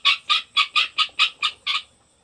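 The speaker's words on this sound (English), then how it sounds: "Sounds like we got some guinea noise going on." Guinea fowl kept with chickens give a run of eight sharp, evenly spaced calls, loud and close, in a quick steady rhythm with no voices.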